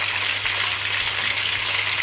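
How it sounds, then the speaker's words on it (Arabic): Crushed garlic sizzles in a pan with a little water while being stirred, a steady hiss of frying close by with no pauses. "والثوم اللي كنت درسته نوسي هكذا شوية تاع الماء، نحركها هكذا"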